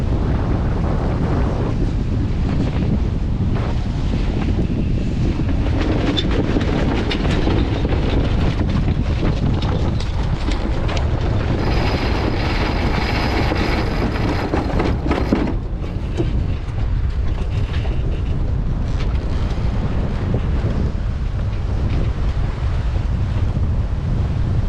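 Strong wind roars across a sailboat on the Chesapeake Bay, a loud, continuous buffeting rush over the microphone mixed with water wash against the hull, with no voices.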